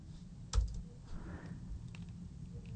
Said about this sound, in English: And I'm just going to type in the values here.